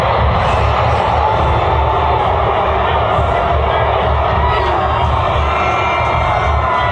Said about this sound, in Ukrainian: Натовп почав несхвально кричати.